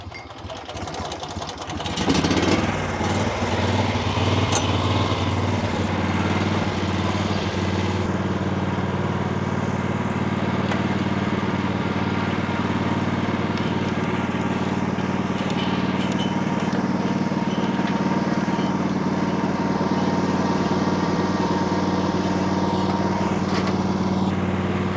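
A small lawn mower engine drones steadily while mowing a yard, loud and close, holding a constant pitch throughout with no talk.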